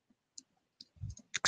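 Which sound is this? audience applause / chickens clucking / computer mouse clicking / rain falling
computer mouse clicking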